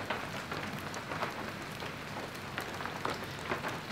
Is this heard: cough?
no